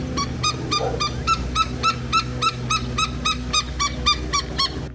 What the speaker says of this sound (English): There's a couple Gila woodpeckers in that tree making a lot of noise.